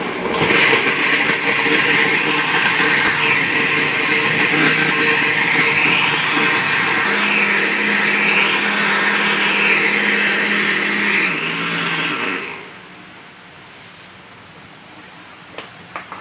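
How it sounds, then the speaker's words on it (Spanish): A blender whirs loudly and steadily, blending white beans with milk for about twelve seconds, its motor pitch shifting partway through before it cuts off, leaving quiet with a few faint clicks. "Vamos ahora a llevarlo a licuar."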